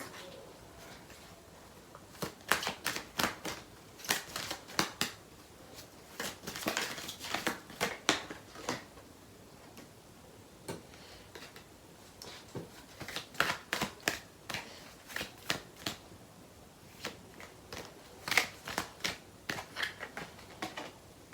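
Tarot cards are shuffled close to the microphone in a quiet room, with soft riffling bursts and crisp snapping card edges repeating in irregular clusters.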